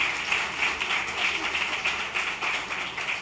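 Steady, fairly loud audience applause fills a hall at a literary festival session, a dense wash of many hands clapping without pause before the conversation begins.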